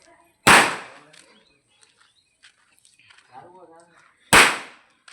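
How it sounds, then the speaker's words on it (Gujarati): Firecrackers set off outdoors on a farm for New Year, two sharp loud bangs about four seconds apart, each with a short decaying tail, with faint voices in between. "ફટાક્યા ફોડે"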